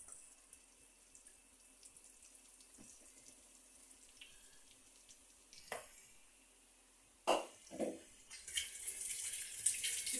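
Rice is washed under running water at a sink. A faint steady trickle builds into louder splashing and gushing in the final seconds, with a few sharp knocks.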